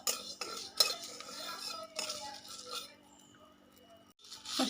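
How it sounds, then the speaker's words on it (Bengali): Fennel seeds and a dried red chilli dry-roasting in a pan, heard as light metallic clinks and scraping of a spoon stirring against the pan, fairly close, with brief pauses and no talk. "হাফ চামচ মৌরি আর একটা শুকনো লঙ্কা। এগুলোকে আমি রোস্ট করে নেব।"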